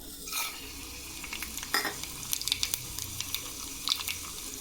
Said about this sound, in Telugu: నూనె కాగింది, ఇదిగోండి పోపు వేస్తున్నాను.